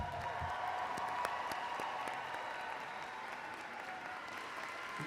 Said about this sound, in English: And a round of applause for the December 2015 graduates from Texas A&M International University.